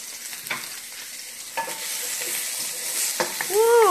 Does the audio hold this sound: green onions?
yes